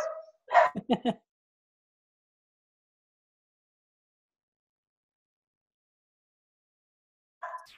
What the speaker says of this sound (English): So of course the dog goes crazy.